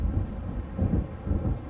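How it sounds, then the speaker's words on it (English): Low rolling thunder of an approaching storm in the Alan Wake video game, a deep muffled rumble that swells in slow waves, close and fairly loud with no voices over it. "It seems there's a storm coming."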